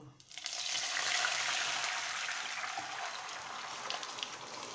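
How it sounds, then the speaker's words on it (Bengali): Boiled, thinned lentil dal poured into a pan of dried red chillies and five-spice seeds fried in oil, setting off a sudden loud, steady hissing sizzle that runs on close up. "আমার শুকনো লঙ্কাগুলো ভাজা হয়ে গেছে, এবার আমি ডালটা দিয়ে দেব"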